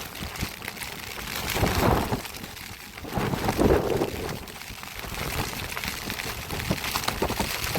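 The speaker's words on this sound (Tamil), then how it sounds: "காற்று சரியான காற்று மழை" Strong storm wind and rain roar continuously on a northern beach at Kudathanai near Point Pedro, with broadband gusting noise and wind buffeting the microphone, swelling louder around the middle.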